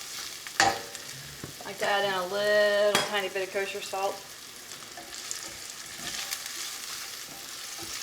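Garlic sizzles in a frying pan while being stirred, a steady crackling hiss with scraping from the stir, running underneath a person talking.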